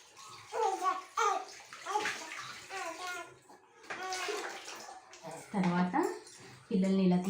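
A mug of water is poured over a child during a traditional Indian baby bath, splashing and running in bursts beneath nearly continuous close talking.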